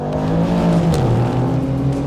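2021 BMW M4 Competition accelerating hard in a roll race, a loud close engine roar holding a steady drone with slight pitch shifts, and no talking.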